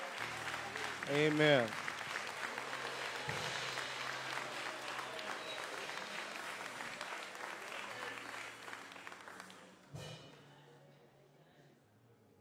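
Audience at an evening church service applauds award recipients, a sustained wash of clapping with scattered voices and a brief sung or spoken phrase early, fading out after a thump near the end.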